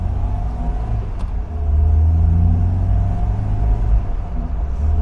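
An MGB classic car driving along, with a loud, steady low engine rumble heard from inside and a slight rise as it pulls under load, no talk.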